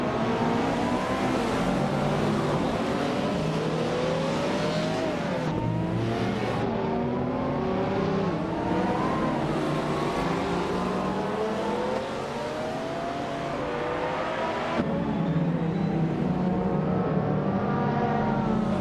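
A 1989 Mercedes-Benz SL500 races in a retro street car class at Ibisu West, its engine droning and revving steadily with rising and falling pitch sweeps through gear changes, other cars nearby, loud and continuous throughout.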